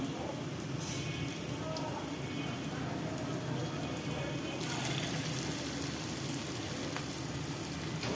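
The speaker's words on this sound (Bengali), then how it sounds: "আমার এই যে তেল গরম হয়ে গেছে, তো আমি এক এক করে দিয়ে দিচ্ছি" Pieces dropped one by one into hot oil for an evening snack, frying with a constant sizzle and a sharper burst of crackle midway, a voice speaking over it.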